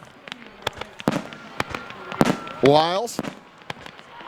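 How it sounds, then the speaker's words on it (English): Fireworks burst outside during a high school football game at Flora High School, sharp cracks and pops scattered across the clip, with a brief whistling rise near the end, heard behind a commentator's voice. "you are hearing the fireworks in the background as the police auxiliary blowing all they had left"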